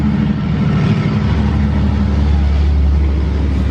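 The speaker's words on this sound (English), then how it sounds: "As you can hear, we live on a busy road here." Steady loud traffic rumble from cars passing on a busy road, a continuous low engine drone with no distinct individual pass-bys standing out.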